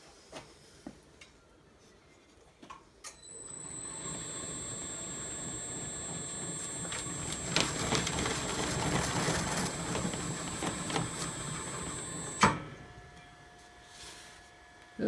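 An upholstery beading machine that forms colored nylon-cored beading starts up with a thump, then runs steadily with a close mechanical whir and a high whine, rattling louder in the middle before cutting off abruptly near the end.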